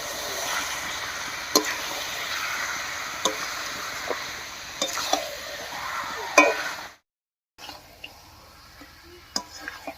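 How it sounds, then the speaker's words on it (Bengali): Chicken and mushrooms being stirred in a frying pan, with soft scraping and scattered utensil clicks over a low sizzle, a brief silent gap near the end before the stirring resumes. "এবার সবকিছুর সঙ্গে খুব ভালো করে মিশিয়ে নেব।"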